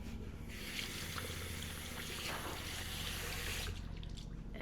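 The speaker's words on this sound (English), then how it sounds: "Wash my hands." Running water from a kitchen sink tap pours steadily while hands are washed beneath it, a soft continuous splashing with small shifts as the hands move, ending with the flow.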